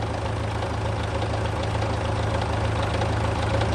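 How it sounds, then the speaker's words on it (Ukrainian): An MTZ tractor engine idles while ploughing a field, running rough and smoky with a suspected injector fault, a steady close low rumble with a faint repetitive knock underneath. "Мене щось почало підстукувати в моторі"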